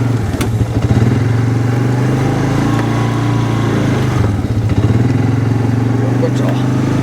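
A 2014 Polaris Sportsman Ace ATV runs off-road with a steady, throbbing engine drone close by, dipping briefly and picking back up, while someone talks over it.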